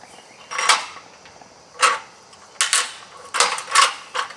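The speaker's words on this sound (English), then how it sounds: "the machine will crack a macadamia nut very easily" A black walnut cracker machine working on a macadamia nut, giving a series of short creaking, crunching snaps at uneven intervals, fairly close and loud with no talk.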